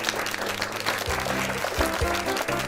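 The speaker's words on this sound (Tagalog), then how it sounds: "Palakpak." Audience at a live Christmas-season show breaks into steady clapping, a dense patter of hands that carries on through the clip, with a voice briefly heard over it.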